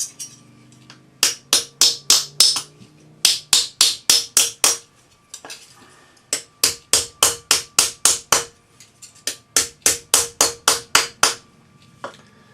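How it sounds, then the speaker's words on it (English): A rawhide hammer strikes a metal cuff on an oval bracelet mandrel in quick, close, evenly spaced taps, grouped in several runs of about six to eight blows with brief pauses between them. "use the rawhide hammer to finish opening it up, and we'll form it"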